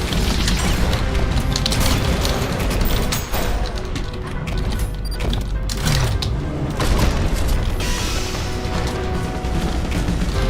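Shotgun melee P boost explosions in the fast-paced shooter ULTRAKILL, a loud, dense run of booming blasts and crashing impacts with mechanical clatter, sustained throughout with no talking.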